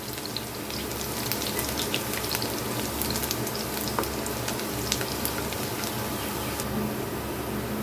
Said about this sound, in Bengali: এখন রসুনটাকে আমি একটু হালকা লাল করে ভেজে নেবো